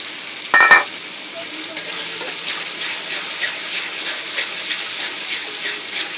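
Sour yogurt poured into spice masala in a pan, with a brief loud splatter of contact followed by a steady soft sizzle and faint stirring.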